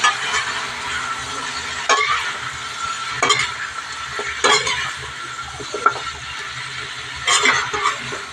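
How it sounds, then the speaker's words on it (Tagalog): Food sautés in a frying pan with a steady sizzle, broken by regular scraping and clinking as a utensil stirs against the metal. "Gisa muna natin para matanggal yung blanca."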